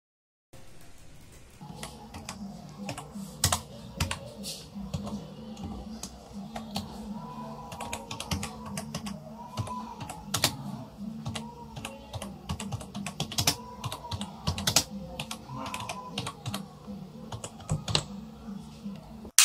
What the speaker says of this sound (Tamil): ராசா, இனி எவ்வளவு நேரம் இப்படியே டைப் பண்ணிட்டு இருக்க போற?